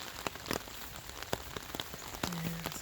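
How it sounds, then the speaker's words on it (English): Pouring rain on a rainy day at a barn, a dense steady hiss with scattered louder drops tapping close by on an umbrella, no voices. "It's raining. It's pouring."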